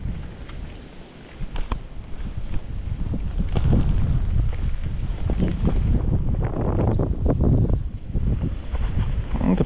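Strong wind roars and buffets the microphone in a continuous, gusty rush on the bank of the Oka river, with rattling and flapping noises rising and falling throughout.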